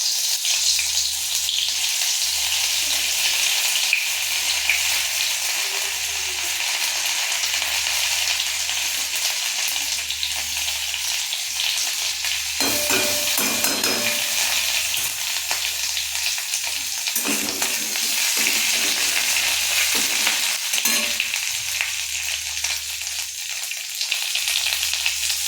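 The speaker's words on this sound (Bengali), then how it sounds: "আমি একটা আদা ভুষি দিয়ে দিচ্ছি" Ginger pieces fry in hot oil with a continuous loud sizzle and crackle, the hiss holding steady throughout with a few faint clinks partway through.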